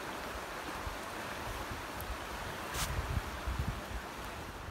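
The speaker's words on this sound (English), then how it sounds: "Water's still quite loud, still rising too." Rising floodwater rushes past a stormy hammock campsite, a steady low wash of flowing water heard from some distance, fairly faint but continuous, with slight surges and a brief rustle partway through and no voices.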